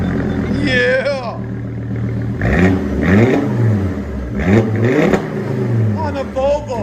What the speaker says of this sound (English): Bam! Side pipes on a Volvo S70.